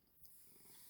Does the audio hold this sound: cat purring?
yes